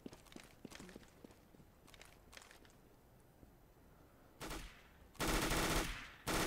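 Counter-Strike: Global Offensive match: quiet footsteps and shuffling give way to a short burst of gunfire and then a loud, sustained automatic volley up close.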